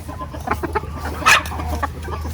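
Several native chickens clucking nearby in irregular bursts, with one louder squawk midway over a low steady hum.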